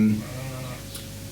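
Sheep bleat outdoors in a short, drawn-out call with a wavering tone, heard from a moderate distance against faint background noise.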